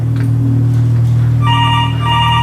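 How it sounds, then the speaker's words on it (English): A telephone rings with a repeating electronic trill over a steady low hum, starting partway through and sounding twice in quick bursts. "A half an hour later, the phone rang again."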